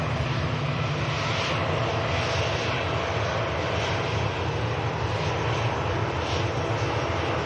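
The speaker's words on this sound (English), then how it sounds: "EasyJet on the way out here. This aircraft's heading down to Tenerife South." An EasyJet airliner bound for Tenerife South roars through its takeoff run at Manchester Airport, a loud, steady broadband engine rumble holding without a break.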